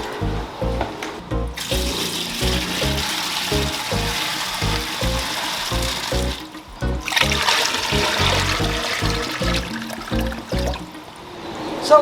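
Aged water is poured into a 15-gallon aquarium tank, a continuous close gurgling trickle with rhythmic glugging pulses, fairly loud, with no talk.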